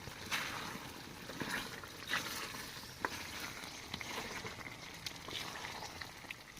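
Spicy Bicol-style dinailan with chili and kamias frying in a pan while being stirred, a continuous soft sizzle with scattered scraping and clinking strokes at close range, no voices.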